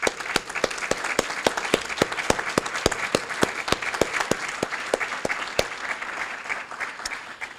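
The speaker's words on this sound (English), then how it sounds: "give you a round of applause" Audience applause at a college hall rededication ceremony, a steady crowd clapping with one close clapper's sharp, evenly spaced claps standing out before the applause thins near the end.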